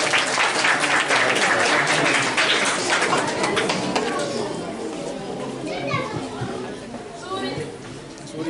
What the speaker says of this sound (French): Sous les applaudissements, mesdames et messieurs.